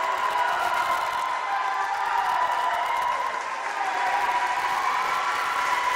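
Spectators at a high school swim meet between Morristown Beard and Montville clap steadily for a boy finishing the 100 breaststroke, with crowd noise echoing in the natatorium.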